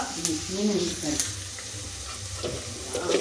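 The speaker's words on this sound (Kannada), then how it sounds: "ಸ್ವಲ್ಪ ಎಣ್ಣೆ ಕಾಯಬೇಕು ಈರುಳ್ಳಿನ ಹಾಕಬೇಕು" Onions dropped into heated oil for an egg gravy, a close, continuous sizzle and fry with some stirring, while someone speaks over it.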